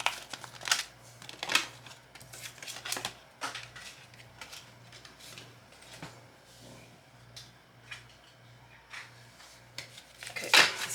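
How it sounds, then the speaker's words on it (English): A deck of cards being shuffled during a tarot-style reading, with repeated crisp riffling bursts and scattered flicks of cards across the whole stretch, loudest near the end, with no talking. "these are hard to shuffle"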